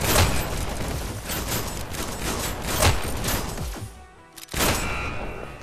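Shotgun fire in the VR shooter Hyper Dash, a rapid, loud barrage of blasts that runs almost continuously, breaks off briefly, then resumes.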